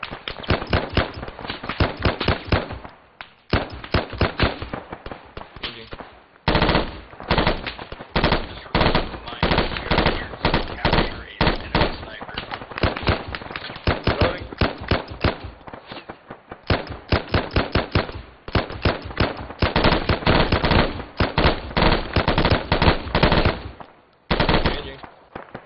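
Rapid bursts of automatic rifle and machine-gun fire during a firefight in the video game Arma 3, loud and close, with short pauses between volleys and near-continuous shooting.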